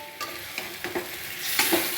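Fried eggplant and bitter gourd are stirred into a home-cooked Bengali dish in a pan, with a few scraping strokes of a spoon over a low sizzle that builds toward the end, no voices.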